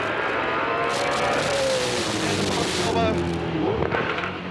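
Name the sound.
race car engine lapping Bathurst circuit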